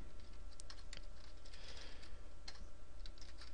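Code is typed on a computer keyboard in quick, light clicking keystrokes, close and steady over a faint constant hum, with no voices.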